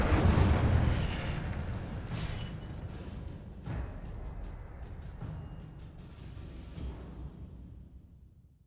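The Incendio fire spell in Hogwarts Legacy erupts with a loud fiery burst and whoosh that rumbles and crackles, then slowly dies away over several seconds.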